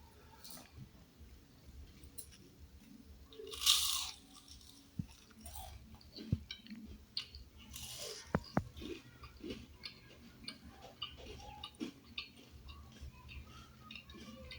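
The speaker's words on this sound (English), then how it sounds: "I'm so sure you can even hear the crunch." Homemade fried onion rings, salted, crunched in a few sharp bites followed by quiet close chewing, faint and intermittent over a soft background.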